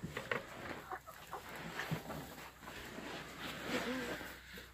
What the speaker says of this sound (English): I had to put a silky chicken in here